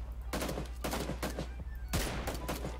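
Gunfire in the battle royale game PUBG, including a powerful shotgun: several bursts of rapid shots in quick clusters, moderately loud over a steady low hum.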